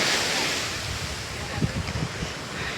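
Sea waves wash onto the shore at Boya harbour in Guhagar, a steady broad roar with buffeting wind noise on the microphone and a slightly louder surge near the middle.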